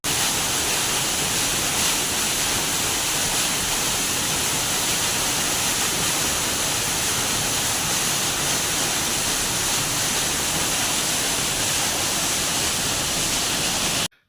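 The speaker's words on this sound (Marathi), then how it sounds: "भिके कोणाळ रोडला असलेला वाघबीळ नावाचा धबधबा आहे" Waghbil waterfall on the Bhike Konal road near Dodamarg, inside a cave, pours with a steady, dense roar of falling water that stays loud and unbroken throughout, with no voices.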